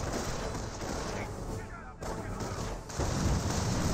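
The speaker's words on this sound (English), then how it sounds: "now have a priest or 25 pounder barrage reading on somewhere" A 25 pounder artillery barrage in Company of Heroes, a dense, continuous roar of booming shell fire with a brief dip partway through before it swells louder again.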